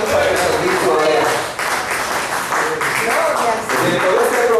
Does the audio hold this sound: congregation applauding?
yes